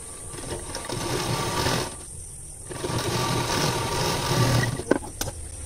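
A sewing machine stitching a hook strip onto fabric runs close and loud with a steady mechanical whir, stops briefly, then runs again and ends with a couple of clicks.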